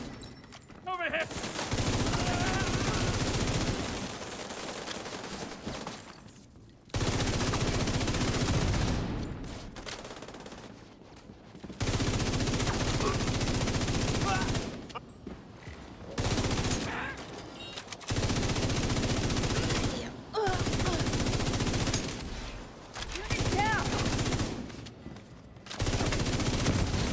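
Sustained bursts of video game gunfire during a stream, loud fusillades in long blocks separated by short pauses, with voices talking over parts of it.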